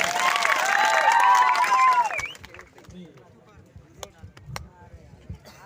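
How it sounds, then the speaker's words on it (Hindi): Applause and cheering from a village crowd at a World Indigenous Day gathering, loud and dense for about two seconds with voices rising through it, then dropping away to a quiet murmur. "एक बार जोरदार ताली बजाते।"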